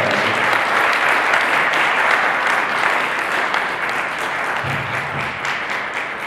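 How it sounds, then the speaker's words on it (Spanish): Sustained audience applause at the close of a course session on the Zapatista agrarian revolution at the INAR institute, dense steady clapping throughout that eases slightly toward the end. "Un aplauso."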